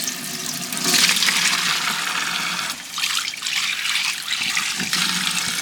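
Boiled chow mein noodles and their hot water pour out into a sink or strainer, a loud continuous gushing splash that surges and eases in waves over several seconds, with no talking.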